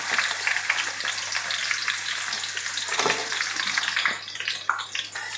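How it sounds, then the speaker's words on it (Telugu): Onions sizzling in hot oil in a pan, a loud, dense, continuous crackle from close by, with a few stirring knocks near the end and no voices. "ఈ ఆనియన్స్ అనేవి మంచిగా వేగాలండి"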